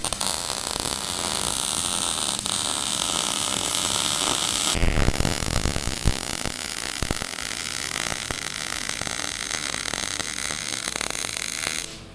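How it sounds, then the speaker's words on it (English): Welding a plug into a pipe on a Nissan GQ Patrol build produces a steady, loud crackling hiss with a brief break and restart partway through, continuing alone without talk. "while Stewie's welding it"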